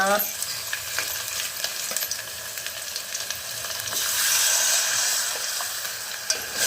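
Oil goes into a hot pan with spices for a traditional Maharashtrian dahi kadhi, then a steady soft sizzle of frying runs under intermittent close clinks and scrapes of stirring.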